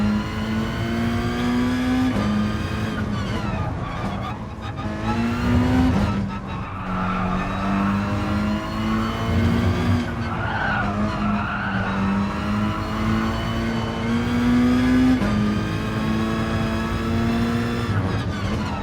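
Race car in Gran Turismo Sport on PlayStation VR, its engine droning and shifting pitch steadily throughout while tyres skid and squeal in stretches, loud and close with no talking.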